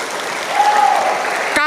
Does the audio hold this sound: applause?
yes